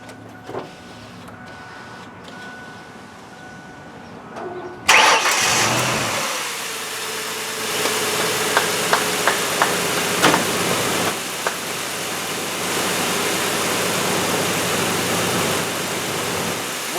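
A rebuilt 1999 Ford Explorer engine cranks and catches after a quiet stretch, then settles into a steady loud idle with a few small clicks and brief blips, running on close by without any voices.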